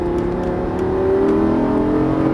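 A Lamborghini Gallardo's 530 hp engine revs up close on a race track, its pitch climbing steadily as it accelerates, a loud continuous whine with no voices.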